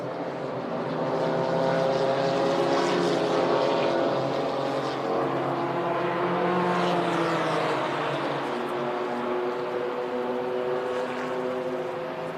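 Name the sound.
GT4 race cars racing at Shanghai circuit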